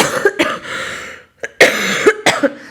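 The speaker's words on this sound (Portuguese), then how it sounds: "Desculpem lá ter tossido tantas vezes." Several sharp, harsh coughs close to the microphone, coming in bursts with a short pause in the middle.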